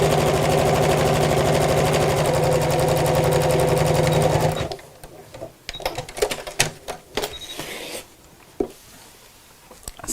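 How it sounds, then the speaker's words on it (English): A sewing machine runs steadily for about four and a half seconds while stitching back and forth over the top of a craft bag pocket. Then it stops, leaving scattered clicks and handling noises. "when you're sewing pockets like this, go backwards and forwards over the top, just a couple of times"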